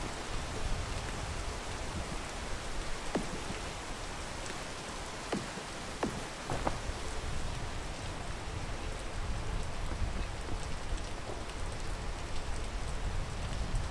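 Rain falls in the climbing video game Peak, a steady, soft hiss of drops with a few faint ticks scattered through it and no voices.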